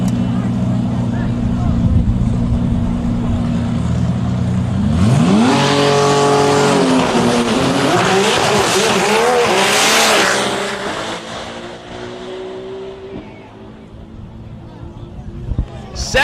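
Drag race cars make a roaring pass down the strip at a DCT World Cup event, engines loud and close, rising in pitch as they launch, then fading as they run away, with an announcer talking over the noise.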